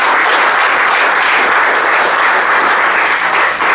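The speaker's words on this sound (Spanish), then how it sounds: "Denle un fuerte aplauso al Señor." A church congregation applauding together, loud dense clapping sustained evenly from start to finish.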